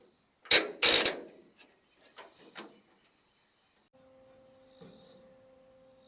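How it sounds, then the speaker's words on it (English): A metal clamp ratchets tight on a rusty Ford pickup bed hinge, giving two loud close clicking bursts followed by a few faint clicks and a soft hiss. "now we'll put a clamp on that, squeeze it all tight"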